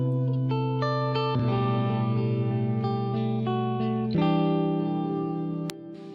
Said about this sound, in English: Beautiful sounding plate reverb, right?